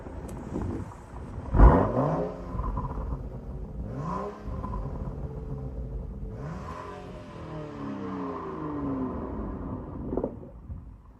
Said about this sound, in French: Petit extrait sonore de l'échappement